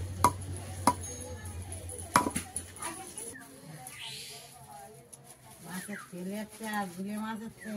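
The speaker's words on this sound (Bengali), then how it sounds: "মা এখানে তালের আটি কাটছে" A palm fruit seed is chopped at home, with several sharp, loud chopping knocks early on, then people speak over quieter background sounds.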